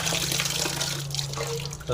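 Dried fish being washed in a basin of water, with continuous splashing and sloshing close by and a voice talking over it.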